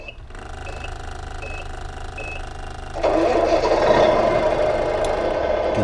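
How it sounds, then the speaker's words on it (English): Simulated truck ignition from a GT Power sound unit in a Tamiya King Hauler RC truck: a few short warning beeps, then an engine cranks and catches at three seconds into a steady loud idle rumble. "The GT Power also have the ignition sounds."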